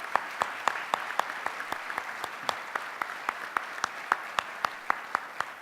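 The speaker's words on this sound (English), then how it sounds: "An applause, please." Audience applause at a domestic violence program event honoring men and youth, thinning out to a sparse, steady rhythm of individual claps that carries on evenly for several seconds with no talking.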